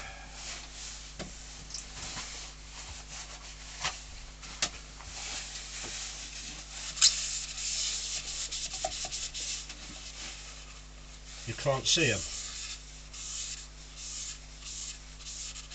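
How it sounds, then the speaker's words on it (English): Steady soft rasping of fine sandpaper rubbing against a yew wood bowl, continuous and close, with a few light knocks and a brief muttered remark. "when you're sanding, ever such fine particles goes in"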